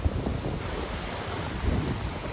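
Strong gusty winds after a storm buffet the microphone in a continuous roaring rush with low thumps, close and loud, with no talk.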